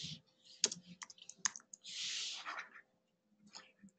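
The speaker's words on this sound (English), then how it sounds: "Click on the cursor tool, and you can start to" Typing on a computer keyboard, with scattered key clicks and a brief burst of rapid keystrokes, heard close and fairly quiet with no speech.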